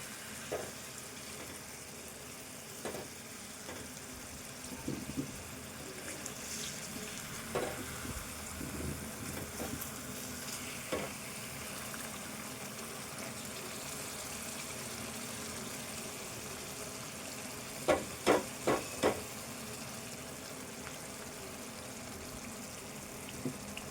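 Egg curry with green chilli masala being stirred and fried in a pan: soft quiet sizzling under scattered scraping and clinking of a spoon, with a cluster of sharper taps near the end and no talking.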